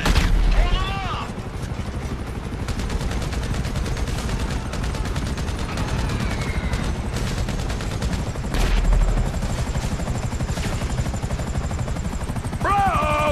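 Gunfire in a GTA V train-yard shootout: dense, rapid bursts of automatic fire crackle almost without pause over a loud helicopter drone, with shouted voices breaking in near the start and the end.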